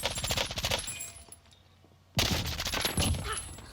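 Bursts of M13 assault rifle fire in the shooter game Warzone, loud and close, a dense volley followed by a short lull and then another sustained burst.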